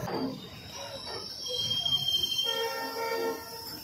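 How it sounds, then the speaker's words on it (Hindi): A passenger train slows to a stop on a line out of Moradabad, with a close low rumble and metallic squeals and whine rising over the rolling noise, its level fairly steady. "देखिए उदार हृदय ड्राइवर, उसने ट्रेन रोक दी सवारियों के लिए।"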